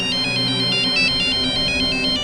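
Incoming telephone call with an electronic ringtone repeating a bright, pulsing melodic pattern, loud and steady with no one speaking.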